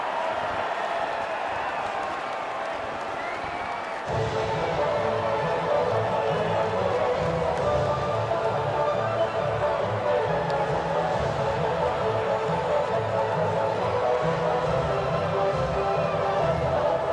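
A crowd cheers at the Formula 1 podium in Marina Bay, Singapore, in the F1 24 video game, a broad, steady roar that swells after a few seconds, with a commentator talking over it.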